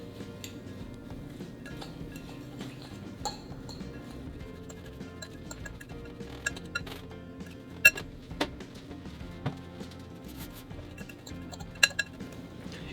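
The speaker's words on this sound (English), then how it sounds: "using either your fork or wooden spoon, I'm gonna mix this up until all of that liquid coats all of the dry ingredients" Granola oats and dry ingredients being stirred in a bowl with a fork or wooden spoon, giving a steady soft scraping rustle with scattered light clinks against the bowl.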